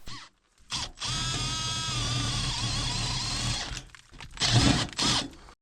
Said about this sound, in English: The next step was to drill a 1/2 inch hole through the frame to set our anchor bolt.